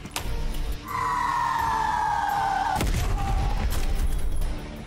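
A grenade launcher noob tube fires in Black Ops Cold War on the Garrison map: a sharp launch thump, a rising whistling tone for about two seconds, then a loud booming blast with rumbling debris, all over steady game ambience.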